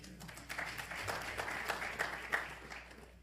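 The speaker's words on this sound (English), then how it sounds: "Y'all can applaud that as well." A crowd at a speaking event breaks into applause, a steady wash of many hands clapping at moderate volume, fairly distant and sustained for a few seconds with no voice on top.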